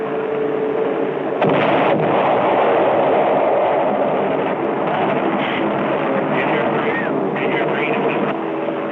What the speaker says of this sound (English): Bombs.